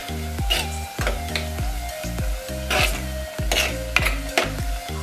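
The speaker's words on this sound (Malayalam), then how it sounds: "ഇത് നമുക്കൊരു പച്ചമണം പോണ വരെ ഒന്ന് വഴറ്റി കൊടുക്കണം കേട്ടോ" Pepper crab masala sautés in a pan for a pepper crab roast with coconut pieces, a steady sizzle broken by repeated rhythmic scrapes and clinks of a spoon stirring against the metal.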